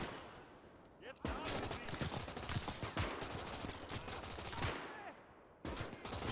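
A PPSh submachine gun fires in the Gates of Hell battle game, with bursts of rapid automatic fire mixed into a wider, dense gunfight, moderately loud and continuous, and someone talking faintly underneath.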